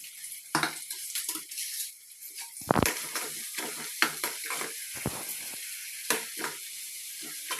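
Onions, chilli and coriander fry in hot oil for a chicken curry, a bright steady sizzle broken by sharp crackles and spits as the pan is stirred, heard close and alone.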